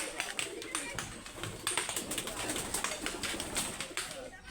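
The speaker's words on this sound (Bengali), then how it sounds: "এই যে পায়রা কবুতর এই পাশে ডিম বাচ্চা করার জন্য" Pigeons in a home loft, soft repeated cooing with faint chirps and rustling, close but quiet, under someone talking throughout.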